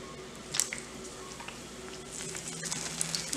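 Eggplant pakoras fry in hot oil with a soft, continuous crackle and sizzle, faint and close, with scattered small pops and a slight swell toward the end.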